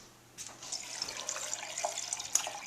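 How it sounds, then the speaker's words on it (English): Tap water runs steadily into a bowl of chopped beets for beet kvass, a soft continuous splashing pour with small spattering peaks, fairly quiet and close, with no voices. "then to that I'm going to add water,"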